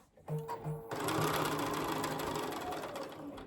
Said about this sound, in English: Just stitch around and get everything nice and secure.